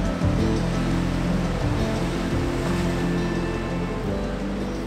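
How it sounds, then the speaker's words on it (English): Water splashing over rocks at the bottom of an outdoor spot, a loud, steady rushing wash close by, continuous with no voices. "grab a couple of shots of this water splashing over these"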